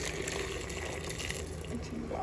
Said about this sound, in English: I'm just gonna pour the water in.